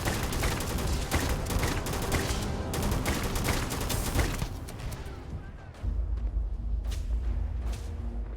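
Gunfire rattles in the Starfield video game, dense rapid shots packed together in a loud burst that thins into a few scattered reports, with game sounds underneath and no speech.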